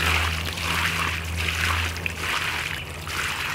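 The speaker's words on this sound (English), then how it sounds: "here I take my 5-gallon bucket and I slowly pour it over the edge" Water poured slowly over an edge from a 5-gallon bucket, a steady, continuous splashing trickle close by with a low hum underneath.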